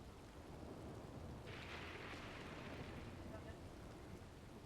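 Steady rain patters and hisses outdoors at a horse training session, a dense broadband wash that stays loud throughout, with a brighter spray of drops swelling through the middle; no distinct thunder clap stands out.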